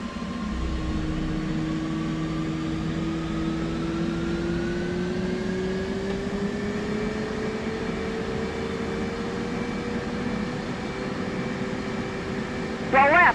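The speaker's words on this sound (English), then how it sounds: "we should hear the engine begin to spool up in the background" An F/A-18C Hornet jet engine spools up during a cold start in the DCS World flight simulator, a steady rising whine with climbing tones over a low rumble, continuous and fairly loud.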